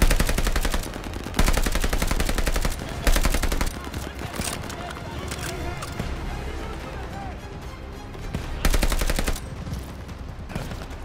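Machine gun fire in the Call of Duty Vanguard campaign, with long, loud, rapid automatic bursts that come back repeatedly, broken up by shorter volleys amid battle noise and shouting voices.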